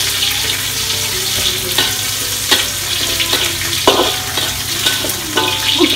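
Lemongrass dropped into hot oil for a chicken curry sizzles and fries steadily, with a few sharper bursts of spitting and stirring scrapes close by, no talking.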